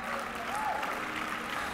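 A church congregation applauds at a Good Friday service, with continuous, fairly distant clapping filling the whole short stretch and a faint voice underneath.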